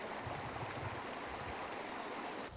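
Stream water flowing beneath Clapper Bridge at Powder Mills, a continuous soft rushing and gurgling that stays even and fairly faint throughout.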